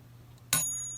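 A 1910 Seth Thomas 89C clock strikes its bell once, a sharp close ding that rings on with a slowly fading high tone.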